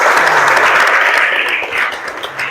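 Classroom applause for a student named Hafiz during an Islamic studies lesson on the hajj, a steady wash of many small hands clapping together for a couple of seconds, fairly close and filling the room.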